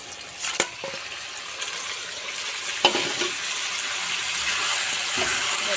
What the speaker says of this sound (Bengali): এবার পুরোটা দিয়ে দেবো কড়াইতে।